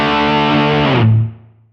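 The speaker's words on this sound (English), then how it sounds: "adding a little bit of ambience and bringing a little bit of depth to the sound" Distorted guitar chord through a Dual Rectifier-style Helix amp model with a dynamic ambience effect, a loud sustained strum that rings for about a second, then a lingering low note and a reverb tail fading out.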